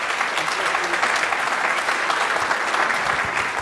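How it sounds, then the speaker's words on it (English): A large audience at a 2014 African Union colloquium applauds presenters, producing a dense, even wash of clapping that holds at a steady loudness throughout. "give one last round of applause to the presenters"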